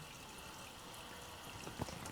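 Tap water running steadily into a crock pot being filled to the brim for bone broth in a home kitchen, a soft continuous wash with a brief louder splash near the end.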